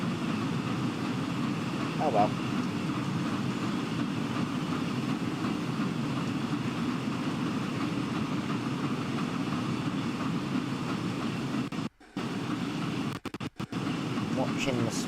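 A train in motion in the Rail 200 game, a continuous low rumble and hum of the running train, with someone talking over it and a couple of abrupt brief dropouts near the end.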